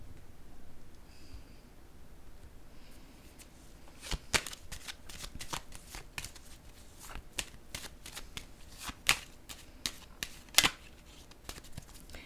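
Tarot cards shuffled and set down on a table, a run of soft, papery flicks and sharp slaps that get louder and clearer toward the end, with no talking.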